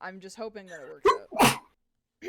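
A person talks briefly during a tabletop role-playing game session, then lets out a single sharp sneeze, close and loud, followed by a moment of quiet.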